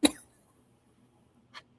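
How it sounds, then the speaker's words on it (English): A single sharp cough bursts out at the start, followed by near silence and a second softer, brief cough-like exhale about a second and a half later. "I'm having like a mild cough."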